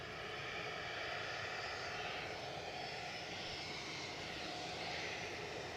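Business jet at Edinburgh Airport, a steady, even jet engine roar at moderate distance with no pauses, holding constant loudness.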